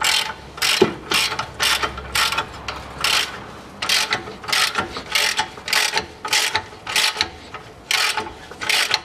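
A ratchet wrench rapidly clicks while unscrewing a nut on the rear shock absorber of a 1998 Toyota Mark II JZX101, with close, regular bursts of ratcheting strokes repeating steadily, no voices.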